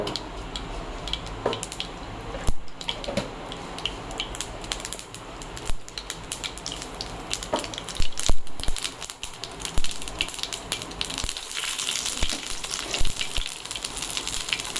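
Mustard seeds crackle and pop in hot oil while a chilli-fried tamarind dish is prepared: a dense, steady spatter of sharp ticks with a few louder bursts, close and continuous for the whole stretch, with no talking.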